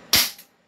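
A single sharp gunshot from a CZ Shadow 2 pistol, loud and close, with a short echoing decay and no talk.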